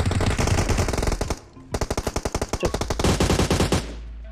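Automatic gunfire from the mobile battle-royale game PUBG Mobile rattles out in loud, rapid bursts: a long stream, a brief pause, then a string of evenly spaced shots and a final dense volley that stops abruptly.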